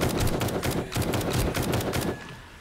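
Rapid automatic gunfire in the zombie survival game 7 Days to Die, a loud steady stream of shots for about two seconds before cutting off, with no talking over it.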